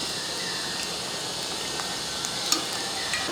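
Onion rings frying in hot oil as they are turned over, a steady soft sizzle with faint scattered crackles and a small pop near the end, no voices.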